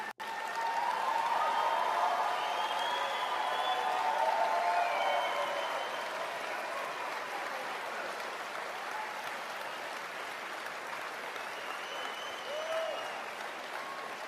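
Sustained audience applause from a crowd fills the whole stretch, loud at first and easing slightly while continuing steadily to the end, with no voices on top.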